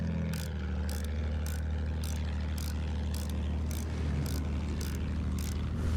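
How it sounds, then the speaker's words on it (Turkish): A World War I-era enemy plane droning in the Battlefield 1 game on the Monte Grappa map, a steady low engine hum with regular rhythmic pulsing beats, sustained and fairly loud, without speech. "Düşman uçağı."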